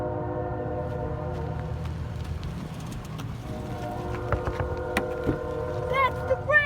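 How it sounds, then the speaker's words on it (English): A BNSF grain train rolls along the Kiamichi Railroad with a low, steady rumble, and a sustained tonal horn sounds throughout. Excited voices talk over it toward the end. "That's the grain train!"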